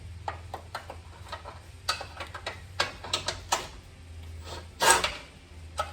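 A wrench working a bolt deep inside a vehicle frame during a transmission crossmember install, giving sparse metallic clicks and ticks at an irregular pace, close by, with a short louder clatter near the end.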